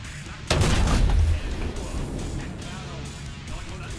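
Tank cannon fire in War Thunder from a Leopard A1A1 L/44 battle, a single loud close boom with a rumbling tail that fades into quieter ambient game noise.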